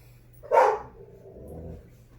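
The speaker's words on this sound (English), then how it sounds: "They really love actually barking at people walking down the street." Dogs Forrest and Luna let out one sharp, loud bark at a street passerby, followed by lower growling or grumbling that trails off indoors.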